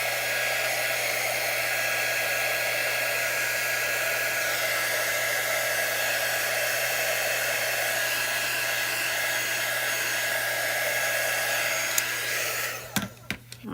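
A heat tool or hair dryer blows steadily to dry green ink on a strawberry-themed paper craft. Its loud, continuous whirring hum runs unbroken for about twelve seconds, then cuts off, followed by a few brief handling knocks.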